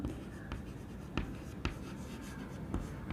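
Chalk or marker writing on a classroom board during a chemistry lesson on molarity, scratchy strokes with a few sharper taps at the start of letters, steady and close with no talking.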